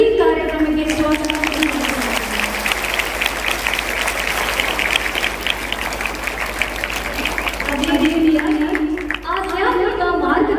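An audience at a St. Ann's School, Hutti, cultural event claps to welcome the school correspondent, a steady wash of applause lasting several seconds, with a voice speaking over a microphone just before and after.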